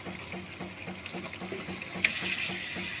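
Mashed elephant foot yam slides into a pan of sizzling spice masala, with a soft pouring whoosh that swells into steady hissing, close by and without speech.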